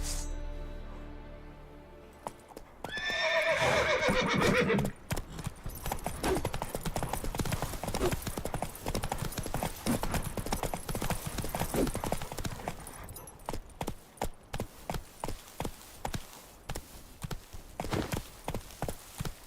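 Geralt's horse Roach in the video game Witcher 3 clip-clops steadily and close, with a brief whinny-like sound early on and hoofbeats that slow into distinct, evenly spaced steps toward the end.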